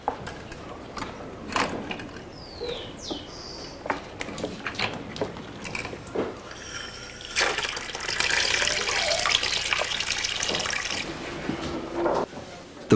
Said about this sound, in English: A kitchen sink serves them well as a rinse tank.